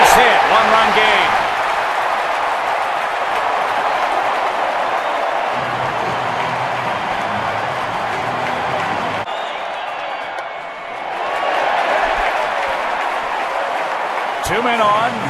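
A baseball stadium crowd at a 2009 NLCS Game 4 roars steadily after a base hit, a dense, sustained wall of cheering that dips briefly and swells again, with a commentator talking over it.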